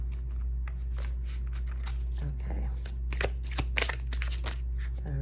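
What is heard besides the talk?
shuffling a thick deck of cards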